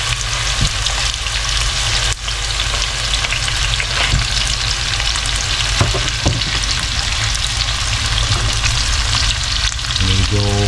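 Steady, loud frying as ingredients sauté in hot cooking oil for homemade buro, a continuous dense sizzle with occasional stirring clicks, close by and without speech.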